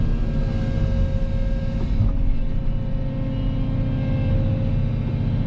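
A heavy excavator digging out a pond and loading dump trucks, a steady loud diesel engine drone with deep rumbling, close and continuous.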